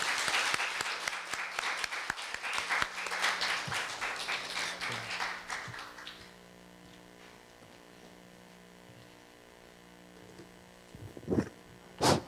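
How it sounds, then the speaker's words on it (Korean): An audience at a Korea University lecture gives warm applause to welcome Professor Choi Kwang-sik onto the stage, with dense clapping that stops abruptly after about six seconds, followed by quiet room hum and a few handling noises. "여러분 뜨거운 박수로 우리 최강석 교수님 환영해 주시기 바랍니다"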